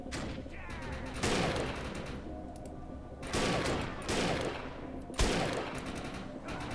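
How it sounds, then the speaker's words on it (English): Three loud, widely spaced sniper rifle shots in Defiance 2050, each a sharp crack followed by a long echoing tail, with other gunfire in between. "That's how the sniper works."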